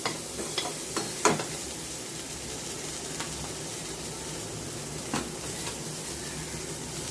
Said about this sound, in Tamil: நல்லா பட்டாணி வேகிற வரைக்கும் நல்லா வதக்கி கொடுக்கும்